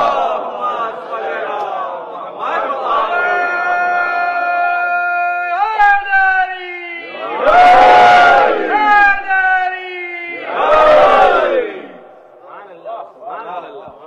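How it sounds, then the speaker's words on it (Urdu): A majlis audience recites salawat loudly in unison, in two strong surging bursts after a sustained, melodic lead voice. "صلوات بھیجتے ہیں محمد"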